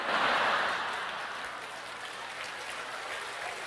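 Audience applause at a church service, a steady wash of clapping that is strongest at the start and then eases to a softer, continuing patter, heard alone without speech.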